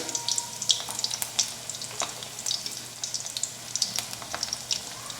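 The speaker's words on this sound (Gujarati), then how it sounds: "આ જ રીતે આપણે બાકીના બધા જ મૂઠિયા તળીને તૈયાર કરી લઈએ" Muthiya dumplings fry in hot oil for a Surti dana muthiya shaak, giving a steady close crackling sizzle with scattered sharp pops and spits throughout, no talking.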